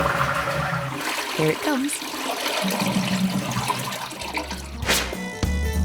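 A toilet flushes and its cistern refills, a loud rushing gush of water swirling and gurgling through the bowl before settling into a steady refill trickle, with a voice speaking over the start.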